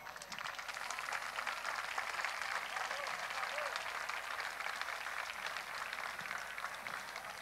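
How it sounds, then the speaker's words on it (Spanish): Audience applause at an international folk festival in Lorca, a dense, even roar of many hands clapping, heard from a distance and sustained throughout. "Pueden aplaudir, por supuesto."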